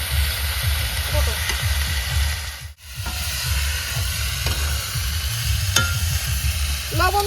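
Chicken skin sizzles with potatoes and whole small garlic cloves in hot oil and spices, a steady loud hiss broken by scraping strokes of a stirring spoon, with a brief dip mid-way.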